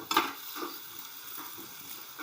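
Onions fry in a pan for paneer masala, with a soft sizzle under a few clinks and scrapes of a stirring spoon against the pan.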